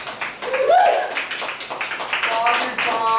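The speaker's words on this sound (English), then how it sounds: "Give him a round of applause." An audience applauds and cheers for comedian Robert Frost at the end of his set at a year-end comedy show, with steady clapping and a few voices calling out over it.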